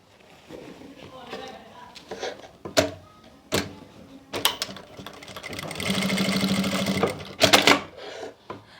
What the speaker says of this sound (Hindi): इसको इस तरीके से फोल्ड करके यहाँ पे सिलाई लगा लेंगे